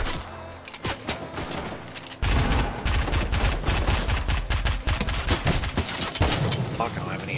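Rapid Fortnite gunfire, dense loud bursts of shots crackling one after another, heavier and more continuous after the first couple of seconds, close and aggressive.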